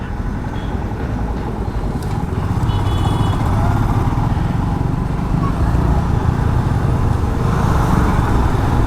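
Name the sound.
light road traffic on TC Palya Ramamurthy Nagar main road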